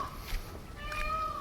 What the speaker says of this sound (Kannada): ಎಲ್ಲ ನವಿಲು ಕೂಗ್ತಾ ಇದೆ